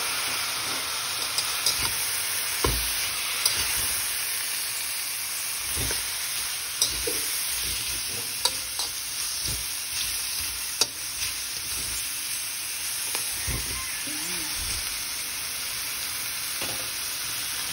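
Pork bones fry in a hot pan, giving a loud, continuous sizzle and hiss broken by scattered clanks and scrapes of stirring, with no talk.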